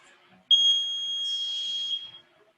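A workout interval timer during a live kettlebell session gives a single sustained, shrill electronic beep lasting about a second and a half, loud and isolated against near silence.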